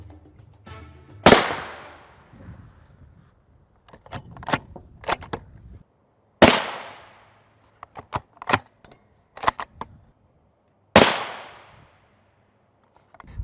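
Rifle fire from a Highcom 3S9M armor plate range test using Winchester M80 ball ammunition: three loud, sharp cracks spaced several seconds apart, each decaying quickly, with clattering and handling noises in between.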